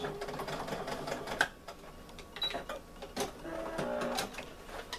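A sewing machine back stitches on a zipper pouch in short bursts of rapid stitching, stopping and starting as it reverses, with faint background noise between runs.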